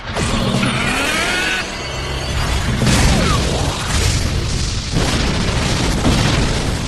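A giant robot in an anime topples and crashes down, a loud booming impact with crunching, shattering debris and rumbling mechanical clatter that stays dense and forceful throughout, with no talking.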